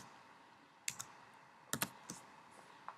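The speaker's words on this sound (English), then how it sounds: "I click on Create a new project and I write the project name." Keys on a computer keyboard clack in a few short, sparse bursts as a project name is typed, quiet and close against a soft room hiss, with no voices.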